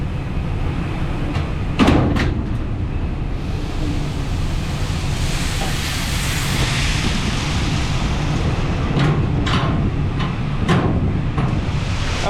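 A metal grain bin door on a farm during wheat harvest is closed and locked, giving a few sharp metallic clanks and bangs over a constant loud rushing roar of wind and machinery.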